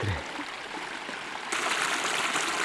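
Water flows steadily in a stream in Yakutia, a continuous bright rushing that grows a bit louder and fuller partway through, with no voices.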